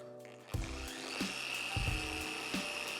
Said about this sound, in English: If the polisher is going fine, you can increase the speed.